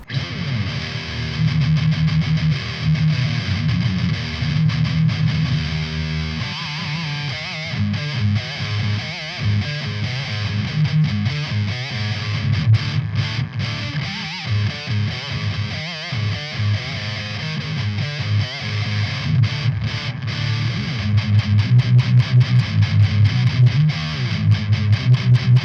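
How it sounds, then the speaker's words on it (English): Electric guitar played through a BOSS Mega Distortion pedal into a Marshall Vintage Modern 50-watt KT66 power amp, giving a thick, saturated distorted tone that plays steadily and loudly throughout with no talking. "BOSS Mega-Distortion, which is what is going to generate most of the tone here"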